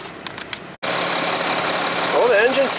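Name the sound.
car diesel engine idling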